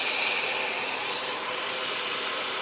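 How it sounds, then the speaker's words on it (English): Chicken pieces grilling on a hot panini grill, giving a steady, loud, close sizzling hiss that holds evenly throughout with no talking. "I'm going to go ahead and put our chicken on there and start grilling it up"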